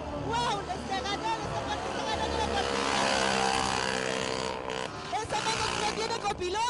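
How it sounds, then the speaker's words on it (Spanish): Mototaxis at a traditional race in Huancayo roar past at full speed, buzzing engines swelling and fading amid excited crowd voices and a shouting commentator throughout. "Ahí vienen las motos a toda velocidad."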